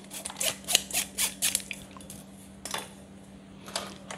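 A metal pot clatters while tzatziki is being made, with a quick run of bright clinks and taps followed by a few sparser knocks over a low steady hum.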